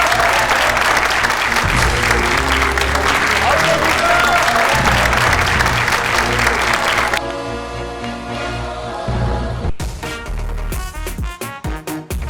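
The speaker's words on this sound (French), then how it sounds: "Applaudissements pour lui à Toronto." A studio audience in Toronto applauds to welcome a political guest, with loud, dense clapping for about seven seconds before it gives way to a musical sting with rhythmic beats.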